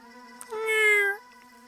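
A person imitates a cat, giving one drawn-out, nasal meow alone, with rising and falling pitch, close and fairly loud.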